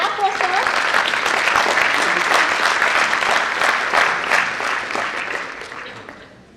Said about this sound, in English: A big clap for sir.